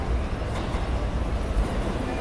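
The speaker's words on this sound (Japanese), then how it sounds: "1番線には快速三崎口行きが2つの車両で到着です" A Keikyu 2100 series Blue Sky Train, eight cars long, pulls into Shinagawa station with a low, steady rumble and faint wheel clatter across the platform.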